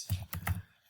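Keys on a computer keyboard click as code is typed, three soft, close taps in quick succession, faint and brief.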